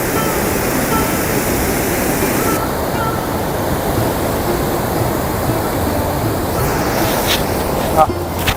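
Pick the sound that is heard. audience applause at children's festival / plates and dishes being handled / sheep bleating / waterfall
waterfall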